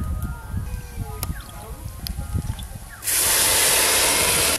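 A sudden loud hiss of steam and sizzling as water is poured onto fried rice in a hot pot for pulao, bursting in after quieter background sounds and holding steady and strong for the last second and a half.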